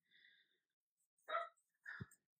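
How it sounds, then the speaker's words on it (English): A dog somewhere in a quiet home gives a couple of short, faint, distant barks or huffs with a breathy edge, heard alone against near silence. "That was my dog"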